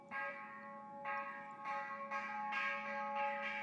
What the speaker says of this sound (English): We don't ring the bell because it sounds beautiful